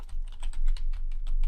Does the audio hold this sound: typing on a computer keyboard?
yes